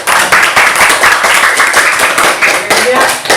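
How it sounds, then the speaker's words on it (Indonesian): A class applauds a student's forward roll from a squat in a floor gymnastics lesson, with dense, steady clapping running throughout at close range. "Oke, kasih tepuk tangan."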